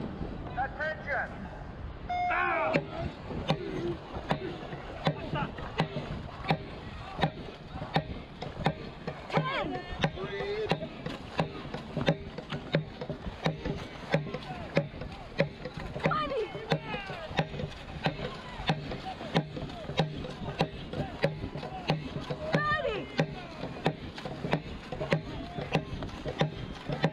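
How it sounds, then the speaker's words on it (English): Dragon boat paddles dip and pull through water in a steady repeated rhythm, with splashes and knocks, while people talk and call out now and then. "pull the paddle through the water"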